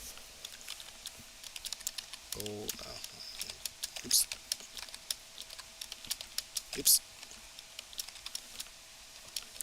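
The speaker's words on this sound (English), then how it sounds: "Sorry if you hear a lot of typing." Computer keyboard typing during a Puyo Puyo tournament stream, with sparse, irregular key clicks and a few sharper taps scattered under a quiet background hum, alongside brief spoken exclamations.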